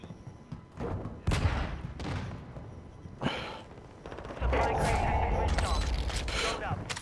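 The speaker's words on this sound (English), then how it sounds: "Somebody shooting." Gunfire in the Warzone 2 video game, with bursts of automatic fire and scattered shots mixing with game ambience while players talk over it.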